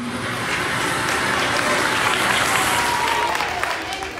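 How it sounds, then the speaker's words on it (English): Applause fills a school classroom as students greet the Detroit Lions coach, a steady, dense wash of clapping holding at even loudness for several seconds with faint voices mixed in. "A round of applause filled the room."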